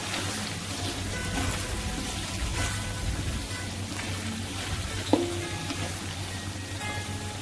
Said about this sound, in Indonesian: Kita aduk-aduk, kita bolak-balik juga supaya aromanya keluar semua.